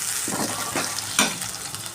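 Tomato, cashew and curry leaf paste fries in a pan with a soft crackling sizzle, a few stirring scrapes and one sharper spatter near the end.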